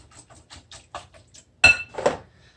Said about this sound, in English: And just mix that in.